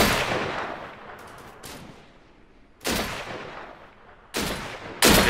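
Gunfire in the video game Deadside: a few sharp, loud single shots separated by pauses, with a burst near the start and further isolated cracks, no talking.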